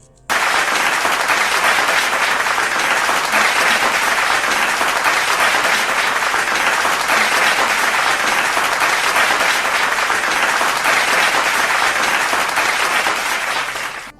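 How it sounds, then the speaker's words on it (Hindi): Loud, sustained applause from an audience at a Hindi poetry recital as a poet takes the stage, steady dense clapping filling the hall for about fourteen seconds before cutting off, with no talking. "आपकी जोरदार तालियों के बीच मंच पर आने की दावत देता हूं भाई विजय तन्हा जी को"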